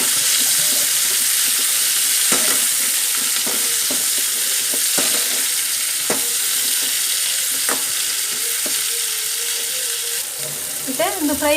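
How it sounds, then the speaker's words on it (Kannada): Onion with coconut, chilli and ginger sizzles steadily in a pan while a spoon scrapes and stirs in irregular clicks, close and continuous, with a brief rustle at the end. "ಮತ್ತೆ ನೀರುಳ್ಳಿ ಫ್ರೈ ಆಗಿ ಬರ್ತಂದ್ರೆ ಕಾಯಿ ಮುಂಚಿ ಪಾಡ್ಗ ಖಾರ ಎಲ್ಲ ಪಾಡ್ಬೇಕು, ಶುಂಠಿ ಪೂರ ಪಾಡ್ಬೇಕು, ಸರಿ ಫ್ರೈ ಮಾಡ್ತೀವಿ"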